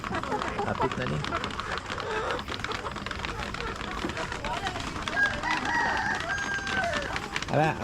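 Chickens and a rooster on a farm: a rooster crows over scattered clucking, mid-distance and moderately loud, while people talk over much of it.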